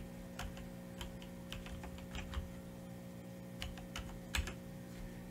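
Quiet, irregular clicking of keys being typed on a computer keyboard, short bursts of taps over a steady low electrical hum.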